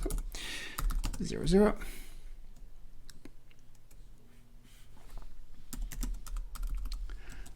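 Computer keyboard typing while sales order data is entered, a light, steady patter of key clicks running under a voice throughout.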